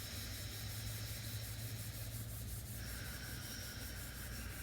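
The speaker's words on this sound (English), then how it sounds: "You can even rub your hands a bit together." Palms rubbed together in a steady, continuous swish during a calm yoga session, close and soft with a constant breathy texture and no talking.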